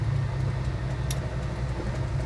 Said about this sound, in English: Car idles nicely, doesn't want to stall out.